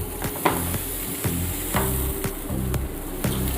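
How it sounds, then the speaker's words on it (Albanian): Pre-boiled potatoes seasoned with salt, pepper and olive oil frying in a pan, a continuous close sizzle broken by repeated scraping stirs of a utensil. "Pas kungulleshës, frogojna edhe patatet."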